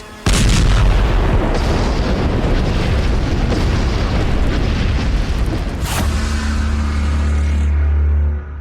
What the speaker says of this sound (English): They arrived at the entrance of the deep tunnel where a massive explosion occurred.